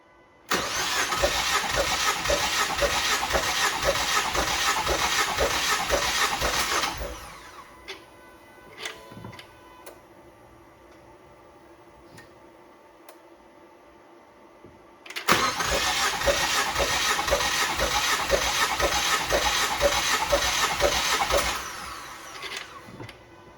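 A cold car engine cranks on the starter during a cylinder compression test, two loud sustained bursts of rhythmic chugging several seconds each, separated by a quiet pause with faint clicks and handling noises.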